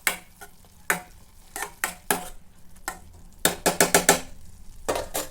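Spoon stirring beans curry with chili powder in a pan, a series of sharp scraping clinks in uneven bursts with a light sizzle beneath, close and clear with no talk.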